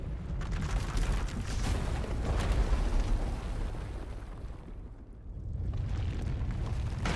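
A rumbling, roaring eruption of uncontrolled Force power tears through an asylum in Star Wars: The Old Republic, a sustained, heavy blast-like wash that dips briefly near the end before surging back.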